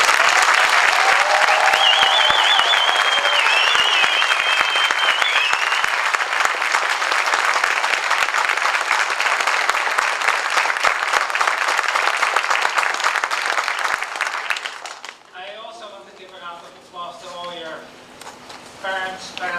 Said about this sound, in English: So let's still give a round of applause to all.